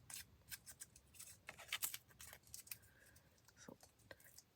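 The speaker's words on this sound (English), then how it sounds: "Grab my scissors and see if I can still do this." Scissors snip and scrape along the paper edges of a tea-dyed journal, giving quiet, close, irregular crisp cuts and light rustling.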